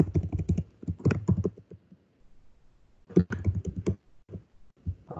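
Computer keyboard typing while entering a slide title in PowerPoint, two bursts of quick rapid keystrokes separated by a short pause, close and distinct with no talk.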